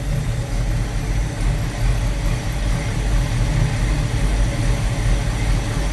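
A 1971 Plymouth Cuda's engine runs steadily close by, a loud, low rumbling idle with a continuous throb and no speech over it.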